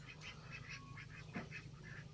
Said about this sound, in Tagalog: kung nagpapakain ako, pumupunta rin naman sila dito sa pakainan ng aking mga pato